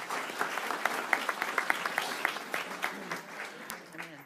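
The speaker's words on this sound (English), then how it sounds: "I believe she deserves a round of applause." A small board-meeting audience claps for a seventh grade student, with distinct individual claps standing out in a moderate, uneven rhythm that gradually thins toward the end.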